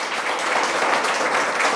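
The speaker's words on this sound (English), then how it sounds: "Please give him a round of applause" Dense, steady applause from an audience at a dinner, a close, even wash of clapping with no pauses.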